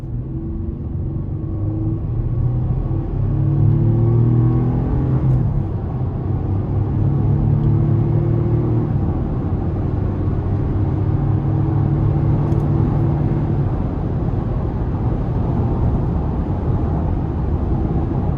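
A 2022 Chevy Colorado ZR2 pickup with the 3.6-litre V6 accelerating hard, heard from inside the cab, its engine note rising through the gears in a loud continuous rumble with brief dips at the shifts.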